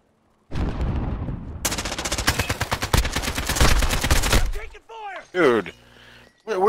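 Bursts of rapid automatic gunfire crack loudly in a shooter video game, a sustained volley followed by sharper shots, with players talking briefly over the action.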